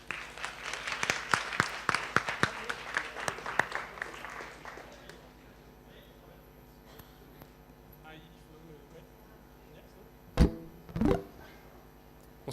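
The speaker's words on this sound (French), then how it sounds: "Donc merci de l'applaudir bien fort et de l'accueillir" Audience applause welcoming a singer at a circular economy conference, steady clapping for about four seconds that dies away into room quiet, followed by a couple of loud thumps near the end.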